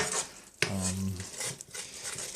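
A metal ladle knocks and clinks against a curry pan as base sauce for a vegetarian BIR-style Madras goes in, one sharp ringing clang followed by softer scraping and sizzle, with no talk.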